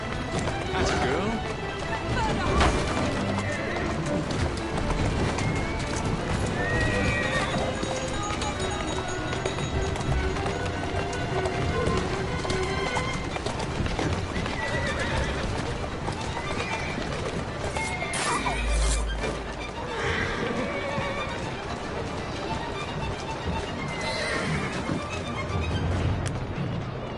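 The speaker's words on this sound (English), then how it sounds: "Who's a good horse? You are." In the video game Assassin's Creed Syndicate, a horse's hooves clip-clop steadily for the whole stretch and a neigh or whinny rises from time to time, with voices talking over the hoofbeats.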